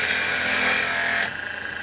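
A wood lathe spins a spalted beech blank as a chisel cuts into it, giving a close, steady hissing scrape that stops abruptly near the end and leaves a quieter hum.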